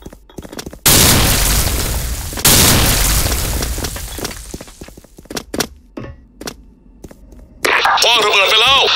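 A time bomb detonates in a video game: two loud, booming blasts land a second or so apart, each rumbling away slowly, followed by scattered thuds and pops and a brief voice near the end.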